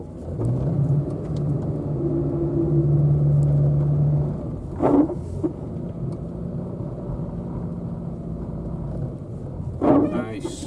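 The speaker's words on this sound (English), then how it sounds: "Let's do a quick donut." A car doing a donut in a snowy car park, its engine rumbling and revving for several seconds before easing off, with a couple of short sharp knocks and voices talking over it.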